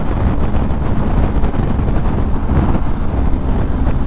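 Loud, constant wind buffeting rumbles against the microphone, a dense roaring rush with no pauses, from riding a BMW GS 1250 Adventure motorcycle at about 121 km/h.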